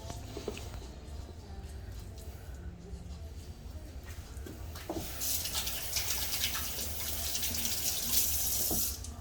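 Water running from a kitchen tap as hands are rinsed of lime juice while making a mojito, a steady close splash that swells louder partway through, with a voice speaking over it.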